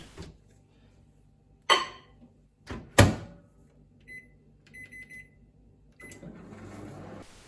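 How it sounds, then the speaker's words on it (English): Doors and latches clack, then a microwave beeps and hums steadily at close range while melting butter, with no talking. "put the extra butter in the microwave to melt it"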